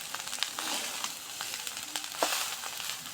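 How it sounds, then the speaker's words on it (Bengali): Rice tossed with turmeric powder and salt fries in oil, giving a quiet, steady sizzle dotted with small crackles and stirring scrapes throughout, with no voices. "এবার সুন্দর করে ভাজা নেওয়া হবে ভাতটা।"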